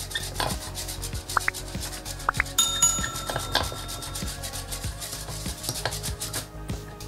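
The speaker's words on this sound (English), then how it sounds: "So now we're gonna start whisking." Sugar, hot water and instant coffee with caramel extract are whisked briskly in a bowl for dalgona coffee, giving a fast, even run of close scraping clinks that continues throughout.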